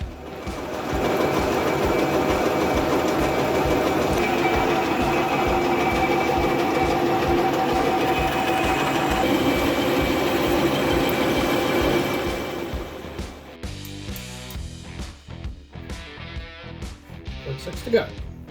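A lathe turns a race engine shaft down to final dimension, a steady whirring cutting drone with a faint rhythmic thump for about twelve seconds before stopping into clattering handling noises; a person talks over it.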